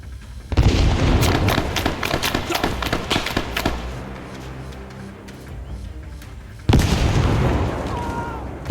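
A grenade explodes in the Arma 3 S.O.G. Prairie Fire game with a loud, close boom and a rumbling, crackling tail, followed by a second heavy blast a few seconds later.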